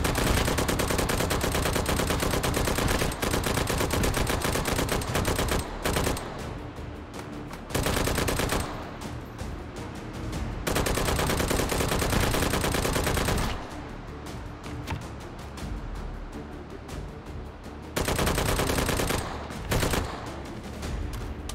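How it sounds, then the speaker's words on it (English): Dense, loud bursts of rapid gunfire from the VR shooter Hot Dogs, Horseshoes & Hand Grenades on the HTC Vive, Northest Dakota map. Shots come in long automatic volleys, broken by a few brief lulls, with no talking. "Who? Who is shooting?"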